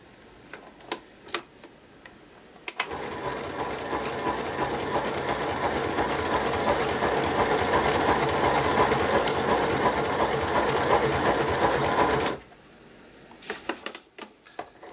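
A sewing machine stitching a wavy decorative stitch, its rapid steady mechanical whirr and ticking running loud and continuous for about ten seconds, framed by brief clicks and handling sounds before and after.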